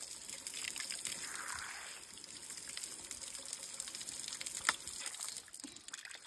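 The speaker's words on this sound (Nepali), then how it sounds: "धाराको पानी हामीले यसरी डाइरेक्टै खान्छौँ क्या।" Water gushes from an outdoor tap in a Nepali mountain village, a steady, fairly faint splashing stream that runs throughout with no voices.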